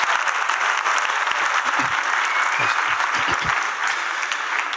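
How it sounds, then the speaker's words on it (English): Conference attendees applaud themselves at a design keynote, a full, dense burst of clapping throughout, with a few low thumps and faint voices mixed in underneath. "Yeah, please give yourself some applause."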